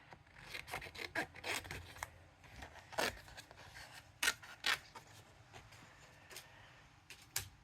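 Scissors snip through paper while trimming a flower die-cut for a floral stamp and die set, a series of quiet, irregular cutting and rustling sounds close up with no talking.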